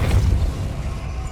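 Depulso spell blast from Hogwarts Legacy: a short, deep thump of game effect audio that rolls off quickly into low rumble.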